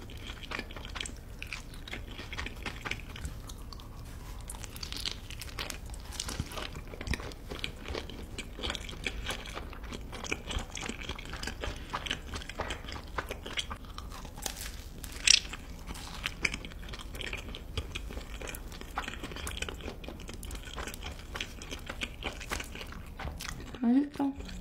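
Raw seafood being eaten up close for a mukbang, with continuous wet biting, chewing and crunchy mastication sounds in an irregular rhythm, accompanied by occasional faint vocal sounds.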